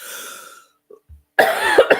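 A single sharp cough after a stretch of faint noise and a couple of soft thumps, followed by a brief burst of noisy exhalation.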